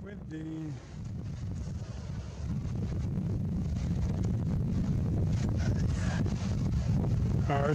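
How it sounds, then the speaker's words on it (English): Steady wind by the Toronto lakeshore in November buffets the microphone in a low, continuous rumble that grows stronger after a couple of seconds, with a faint voice near the start. "It's windy."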